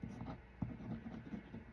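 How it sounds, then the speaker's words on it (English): Wet glue is brushed onto paper while assembling a Christmas journal, giving soft, faint scratchy strokes in a quiet room with no talking. "And just take the wet glue and go over it."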